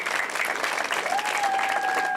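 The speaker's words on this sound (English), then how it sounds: "Let's give them a big round of applause." Steady, dense applause from an audience at a community event in El Monte, honoring local school district leaders; continuous clapping fills the clip at even loudness, with a faint tone sliding in partway through.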